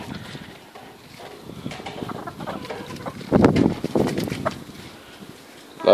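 Chickens clucking and squabbling over feed during a feeding frenzy, with busy overlapping clucks and scuffles that swell into a louder flurry midway, close and lively with no talking.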